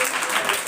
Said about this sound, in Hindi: जोरदार ताली मारे डायरेक्टर सर के लिए